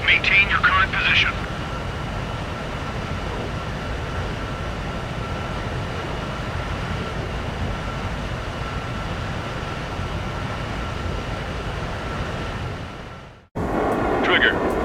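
A jet aircraft holds position during aerial refueling in the video game Ace Combat 7, its steady broadband roar running unbroken for most of the clip before cutting out abruptly near the end, with short radio-style bursts at the start and finish.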